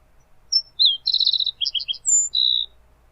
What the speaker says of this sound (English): here's the sound of just one green-tailed towhee